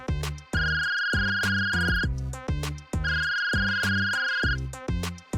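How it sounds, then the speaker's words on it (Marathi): A melodic phone ringtone playing loudly, a repeating electronic tune in two phrases with sustained high tones, no voices. "तिचा फोन वाजला."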